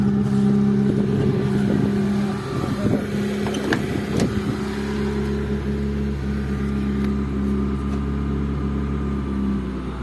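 A steady, droning engine note from a passenger car holds on with the revs kept high and then settling, a continuous loud hum with light wind noise over the microphone and no talk.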